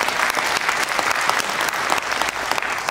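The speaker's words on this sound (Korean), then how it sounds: "그럼 박수 한번 칩시다." Steady, dense applause from a crowd at a Geumsan ginseng festival announcement, loud and continuous throughout with no talk over it.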